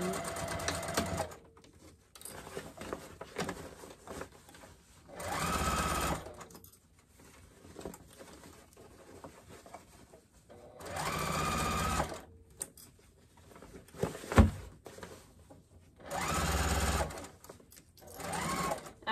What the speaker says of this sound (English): So I'm gonna go ahead and when I get to that, backstitch over that again.